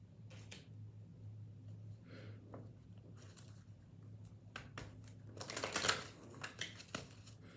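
Tarot cards are shuffled by hand in quick papery riffling bursts over a low steady hum, growing louder and denser near the end.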